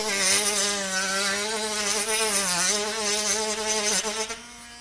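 A Tork Craft mini rotary grinder rounds over the edge of a knotty wooden board, giving a steady high whine with stacked harmonics that dips slightly in pitch under load and then eases off near the end.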